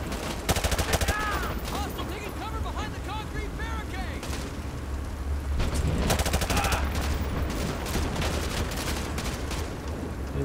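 Dense video game gunfire from Call of Duty Modern Warfare 2 Remastered: rapid automatic bursts and heavy shots rattle almost without pause, loud and continuous, with faint voices underneath.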